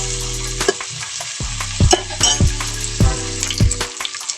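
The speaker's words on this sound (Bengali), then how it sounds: "এই গোশটা আমি একটু তেলের উপর ভেজে নেব।" Meat frying in oil, a close crackling sizzle with several stirring scrapes and clinks spaced about half a second apart, no talking.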